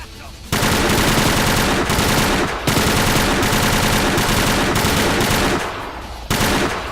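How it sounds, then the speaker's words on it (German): A machine gun in the shooter game Übersoldier 2 fires in long, loud continuous bursts, broken by two brief pauses, with no talk over the rattling stream of shots. "Ich muss zugeben, dieses MG ist ziemlich ungenau"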